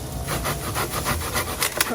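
Steady back-and-forth strokes of a Silky handsaw cut through dry hardwood firewood at a lakeside campsite, with a rhythmic, close, raspy rubbing and a few louder strokes near the end.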